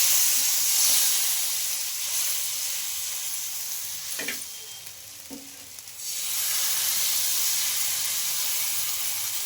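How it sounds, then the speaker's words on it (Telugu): Wheat flour and spinach dosa batter spreads on a hot oiled pan, a steady bright sizzle and hiss that dips briefly midway with a couple of soft scrapes, then returns strong. "ఇంకా ఇప్పుడైతే దోశ అయితే పోస్తున్నాం"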